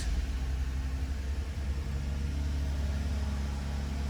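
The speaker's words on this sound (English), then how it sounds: "Foot on brake, push start," A 2007 Lexus IS250 engine started by push button and settling into a steady low idle rumble, heard close and continuous throughout with no talking.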